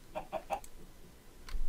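A chicken in the video game Minecraft clucks three times in quick succession, then gives one more cluck after a short pause.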